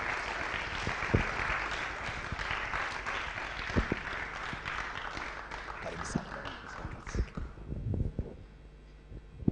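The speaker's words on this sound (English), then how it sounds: "Please keep clapping." An audience at a tech talk and web development graduation applauds a speaker with sustained clapping that thins out toward the end, leaving a few scattered claps and some faint voices.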